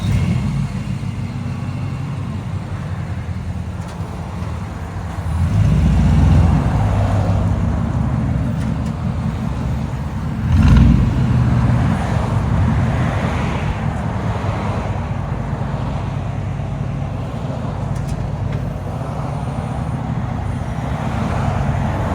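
A 1992 Chevy 1500 pickup with a 5.0L (305) V8 and true dual straight-pipe exhaust rumbles steadily at idle, with two louder swells of revving as it rises and falls.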